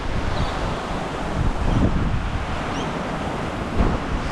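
Gusty wind buffets the microphone over a steady wash of choppy surf at Inskip Point, Queensland, with a few stronger swells breaking through the roar.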